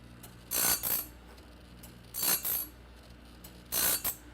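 A TimberKing Talon sharpener grinding a sawmill blade, heard as three short bursts of grinding and mechanical clatter at steady intervals, separated by quieter pauses with a faint hum of the machine underneath.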